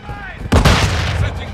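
Gunfire in the Modern Warfare 2 video game: a heavy, booming burst starts abruptly mid-clip and continues as loud sustained firing, with faint radio-style voice chatter in the quieter opening.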